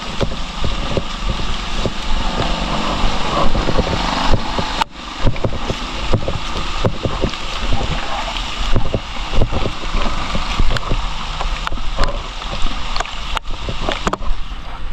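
Heavy rain pours continuously outdoors, a loud dense hiss and patter with gusty wind buffeting the microphone throughout.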